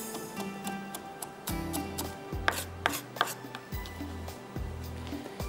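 Green chillies finely chopped with a knife on a board, heard close as a run of quick, even knocks in short bursts.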